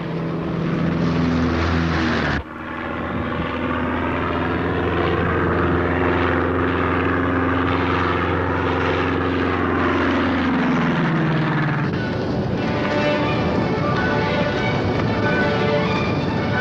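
Small aircraft engine droning steadily overhead while flying over a forest fire, loud and continuous, with a brief dip before the tone rises and shifts as the plane circles.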